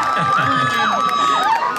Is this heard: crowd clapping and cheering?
yes